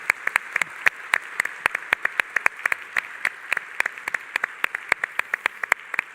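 A small conference audience in a Lisbon auditorium claps for the panelists at the close of a session, a sparse, steady patter of distinct individual claps continuing for several seconds.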